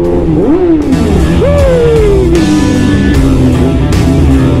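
A Yamaha R6 sport bike engine revs hard and close, pitch sweeping up and falling back in two loud pulls over a steady rumbling idle, with no voices.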